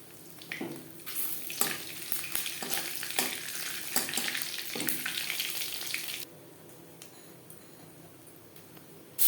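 Bay leaf and panch phoron sizzle in hot oil in a wok, a loud steady frying hiss with repeated scraping stir strokes that cuts out abruptly near the end, leaving quiet room tone.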